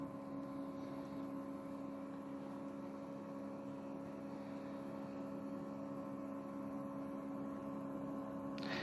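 Steady electrical hum with strong tonal lines from a circulation pump running off an HP T1000 G3 UPS, constant and unbroken, with no voices.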